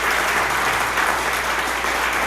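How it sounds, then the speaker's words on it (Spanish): Loud, dense applause from a church-style congregation during a talk on forgiveness and faith, steady close clapping filling the whole short moment without a break. "Vamos a darle un fuerte aplauso a Dios."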